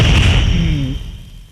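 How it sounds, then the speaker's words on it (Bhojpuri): A single heavy gunshot from a Bhojpuri police action movie booms loud and close, a deep blast whose rumble fades out over about a second and a half, with no speech. "रामायण साला दोगला पुलिस वाले पे गोली चलाता है।"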